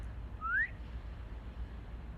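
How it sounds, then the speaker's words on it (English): A single short rising whistle from the video game Reverse 1999, clear and fairly close over a quiet low background hum, with no talking. "A whistle sounds and the wolves pause, quickly retreating back to their original spots."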